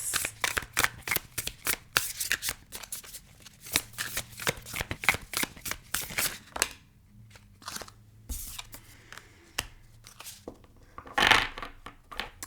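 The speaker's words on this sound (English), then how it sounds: "But let's pull a couple cards for the general collective energy." Tarot cards are shuffled close by in quick bursts of riffling and flicking, with short pauses between rounds and a louder shuffle near the end; no talk.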